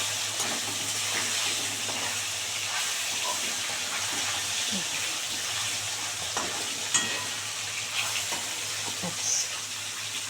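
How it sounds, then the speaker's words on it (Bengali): Sarpunti fish pieces frying in a pan, a steady soft sizzle and hiss with occasional small pops and spatula clicks, fairly faint and close. "চার পিস করে ভেজে নেব।"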